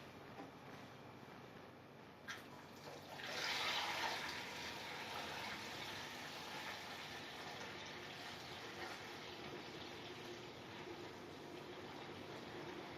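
Beer wort pours through a funnel into a 6.5-gallon glass carboy, a soft, steady rushing splash that swells after a brief knock and continues faint and even.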